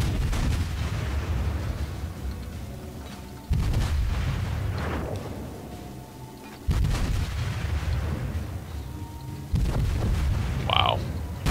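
Naval shell fire in World of Warships, with three heavy booms spaced a few seconds apart, each followed by a long rumbling decay, plus a brief whistling tone near the end.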